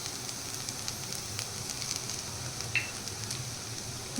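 Grated fresh coconut frying in a pan, a soft steady sizzle and crackle with a few faint clicks of stirring, quiet and continuous.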